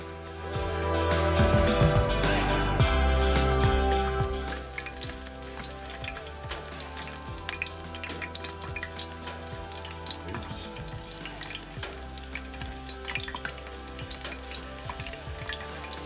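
Wild chicken mushrooms frying in hot grease in a pan over an open fire, a loud burst of sizzling as the pieces hit the fat, settling into a steady crackling fry up close.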